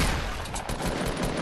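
Rapid gunfire rattles densely and loudly in the Fortnite video game as the player is hit, a continuous close burst with no pauses and no talking.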